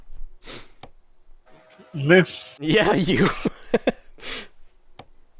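Heavy breathing and sniffing blown close into a microphone come in short, rough bursts, with a brief exchange of talk and a chuckle in between.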